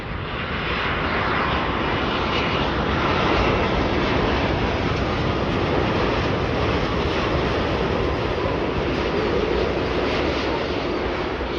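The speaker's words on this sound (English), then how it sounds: "we got a Boeing 787-9 Dreamliner Turkish Airlines arriving in from Istanbul" A Turkish Airlines Boeing 787-9 Dreamliner arrives at Chicago O'Hare, its engines giving a loud, steady broadband roar that holds throughout without anyone speaking.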